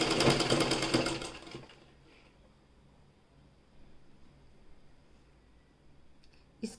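A sewing machine runs in a short, rapid, rattling burst while stitching a piping strip, then falls to a low hum with faint handling sounds and a small click at the end.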